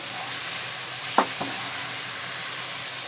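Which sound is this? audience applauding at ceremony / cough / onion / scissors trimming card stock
onion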